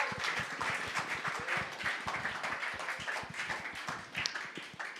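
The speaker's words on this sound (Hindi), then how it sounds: "huge round of applause" Church congregation clapping during a Sunday worship service, a steady patter of many hands at moderate level with faint voices and cheers mixed in.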